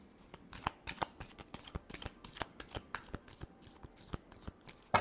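Tarot cards are shuffled by hand in a quick, steady series of crisp riffling snaps, close and clear with no talking.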